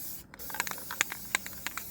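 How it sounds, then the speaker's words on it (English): A spray can coats a deer stand with paint in short, quiet hissing bursts, several quick sprays in a row close to the microphone. "I'm out here spray painting."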